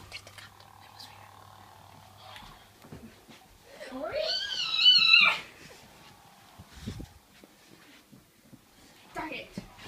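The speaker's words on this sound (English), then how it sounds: "I've spotted the cat." A cat in a video game lets out a single loud, rising meow-yowl midway through, standing out against a quiet, sparse game background with faint scattered sounds before and after.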